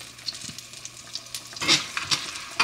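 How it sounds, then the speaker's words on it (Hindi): Garlic, dried red chillies and asafoetida sizzle in hot ghee as a tempering for dhaba-style dal, a soft crackling hiss broken by a few sharper spattering bursts near the end. "बस ऊपर से छौंक लगाऊंगी घी में, खूब सारा गार्लिक, सूखी मिर्च, थोड़ी सी हींग।"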